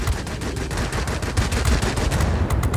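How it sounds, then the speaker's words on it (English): Anti-aircraft flak fire in World of Warplanes: a dense, continuous barrage of rapid booming bursts and crackling shots, loud and close, with no talk. "Here comes the flak."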